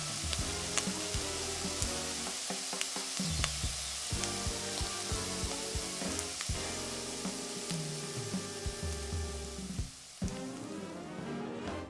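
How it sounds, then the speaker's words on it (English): Lamb and sautéed onions fry in a pot, with a loud, dense, continuous sizzle and crackle and scattered clinks and scrapes of stirring, heard alone without voices. "Okay, the lamb is on the fire."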